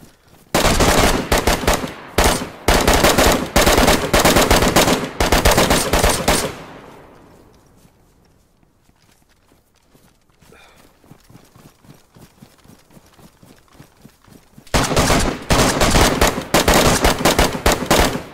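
Loud, rapid bursts of automatic gunfire fill a multiplayer shooter match, dense volleys alternating with short gaps, then a quieter stretch of distant scattered shots and footsteps before heavy firing resumes near the end.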